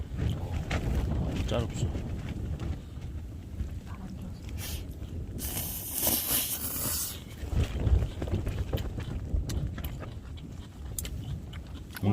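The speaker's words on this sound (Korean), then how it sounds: "오늘 날씨 되게 따뜻한 날씨였는데 산에 바람 부니까" Strong wind blows across a mountain at a backpacking campsite with a view of Jirisan, buffeting the microphone in continuous gusts that peak partway through, while a person speaks over it.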